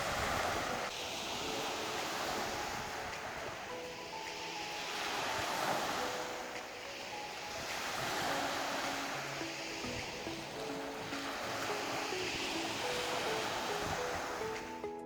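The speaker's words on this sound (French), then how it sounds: "Checkez ça, les vagues de malade mental" Big ocean waves surge and crash on a rocky shore, a continuous wash of surf swelling and falling in slow rolling pulses, soft and steady with no voices.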